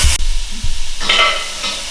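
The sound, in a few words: daikon and carrots sautéing in ghee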